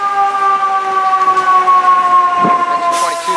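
An FDNY fire engine pulls away from a fire scene on a New York street with its siren wailing loud and close in a steady high tone over street noise.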